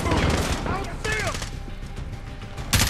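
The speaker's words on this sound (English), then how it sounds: "Who's shooting?" Gunfire in the video game Call of Duty Modern Warfare, dense crackling bursts of shots mixed with whizzing and impact sounds, loud and close throughout.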